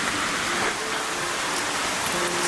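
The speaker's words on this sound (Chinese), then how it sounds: "下雨下得我冻死了" Heavy rain pours steadily outdoors in the forest during mushroom picking, a dense, loud, even hiss with no pauses and no voices.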